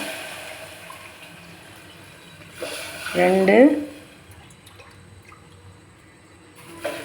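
Water pours briefly into a pot of rice semolina with a rising gurgle, about a second long, as a person speaks nearby.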